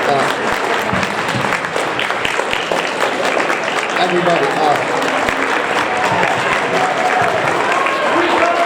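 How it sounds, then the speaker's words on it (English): Standing applause from an audience at an awards ceremony, a steady dense clapping that carries on for several seconds with a voice speaking over it. "Please stand up and give her a round of applause, please."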